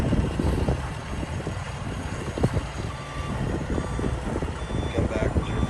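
A 2012 Kenworth T660 day cab truck with an Eaton automatic transmission and a Cummins engine reverses outdoors, its low engine rumble steady under wind noise on the microphone, with faint backup beeping and a voice speaking.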